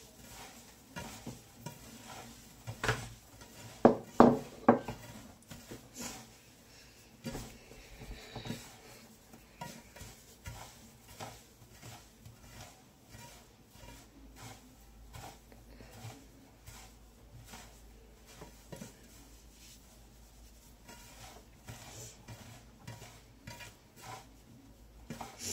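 Toasted semolina hand-rolled in a dish for makrout gives soft rustling and rubbing, with a few louder clatters early on, then steady quiet scraping and shuffling close by.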